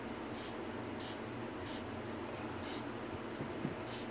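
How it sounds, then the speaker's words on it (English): Paint sprays from a distance onto a surface while skin tones are being painted, a series of about seven short, evenly spaced hissing bursts over a low steady background. "I'm just like spraying from far away."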